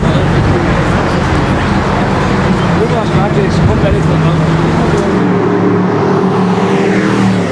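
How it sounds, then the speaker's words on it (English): Mercedes SLS AMG and E63 models, including E63 T wagons, run on the track in Abu Dhabi with a loud, steady engine and road roar that holds throughout, sounding like cars passing close by with no break or quiet gap. "one by one SLS's, E63s, E63 T models are going out on the track"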